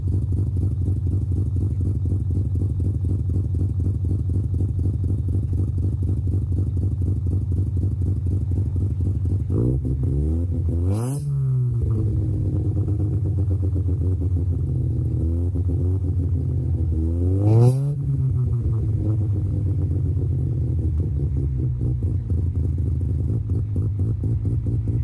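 Self-built naturally aspirated bridgeport 13B rotary in a Mazda RX7 idling with a choppy, lumpy beat, then blipped sharply twice, each rev rising and falling before settling back to the uneven idle.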